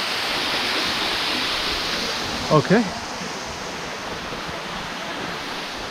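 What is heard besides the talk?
waterfall at river confluence, Garden of Caves, Meghalaya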